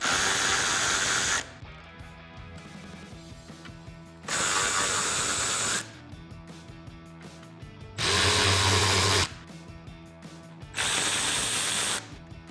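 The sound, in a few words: socket ratchet removing 10mm grille bolts on RAM 1500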